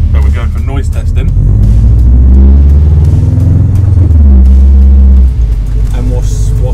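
Race car engine at a track day noise test, loud and close with a low, heavy rumble that swells and holds before cutting off sharply, voices audible over it.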